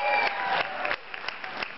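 An audience at a tribute performance in Las Vegas bursts into steady applause with some cheering, a dense clatter of clapping that carries on throughout, fairly close and lively.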